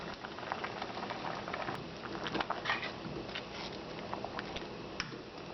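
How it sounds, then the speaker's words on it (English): Kimchi stew bubbling in a pot on the stove, a steady dense simmer of small pops and liquid patter, close and moderately loud throughout with no talk. "the kimchi is boiling now"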